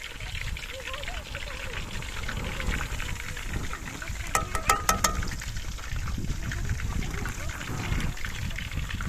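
Water poured from a glass of drinking water over hands for washing, a soft continuous trickle and splash close by, with voices in the background.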